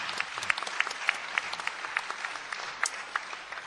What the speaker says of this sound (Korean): 잠깐 일어나셔서 우리 박수로 한번 격려해 주시기 바랍니다